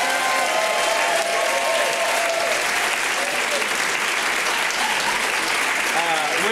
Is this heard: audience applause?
yes